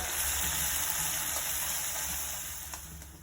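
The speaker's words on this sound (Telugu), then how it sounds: "ఈ ముద్దని ఇలా కలుపుతూ సిమ్లో ఒక 5 నిమిషాల సేపు మంచి వాసన వచ్చే వరకు వేయించుకోవాలి" Spice paste frying in a pan on low heat for a cluster beans and jackfruit seed curry, a steady close sizzle and hiss throughout with faint stirring scrapes.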